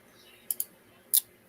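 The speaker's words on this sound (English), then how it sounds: "y'all don't like the sound of my mouse clicking all over the place" A computer mouse clicks close to the microphone, a quick double click followed by one more sharp click, crisp and alone.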